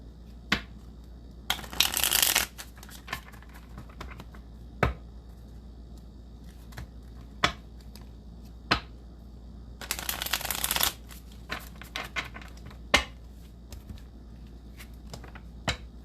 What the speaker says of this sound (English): let me go ahead and pull some of these Island Wellness cards